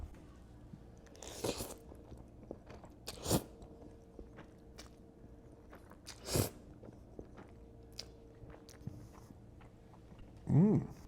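Quiet, close eating sounds as Indomie mee goreng barbecue chicken noodles are eaten with chopsticks: a few soft bites and chewing noises spaced several seconds apart, with faint scraping in between.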